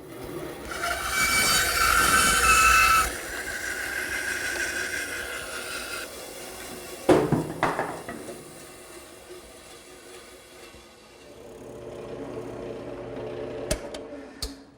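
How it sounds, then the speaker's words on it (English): A bandsaw with a 3/8 blade cuts a circle from a wooden blank, a loud steady roar and whine that shifts partway through, then quieter running with a few sharp ticks near the end. "I'll use the bandsaw to cut out the circle"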